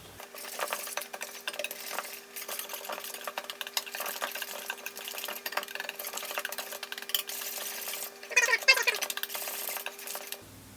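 Flour and baking powder for scones are stirred together in a bowl as a steady scraping and tapping runs throughout. A louder cluster of clinks comes near the end, and a faint hum sits underneath.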